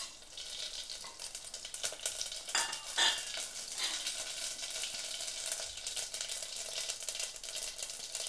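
Steady, loud sizzling of spices and green chillies frying in hot oil for tempering, with a brief stirring clink partway through, close up and continuous.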